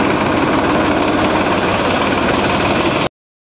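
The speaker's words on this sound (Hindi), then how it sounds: "दिखाने के लिए हमारे ट्रैक्टर को जिसमें लंगर जा रहा है" A tractor engine runs at a steady idle in a flooded village, a loud, close, rough diesel rumble with rapid regular knocking that stops abruptly just before the end.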